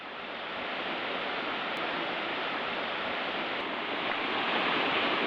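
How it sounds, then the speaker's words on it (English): A waterfall at a sacred island site roars as steady broadband rushing water, dense and continuous at close range with no voices. "Beautiful falls."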